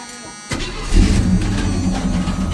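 A small block Chevy V8 cranks and catches after a short quiet lead-in, then settles into a loud, rough idle with a steady low rumble.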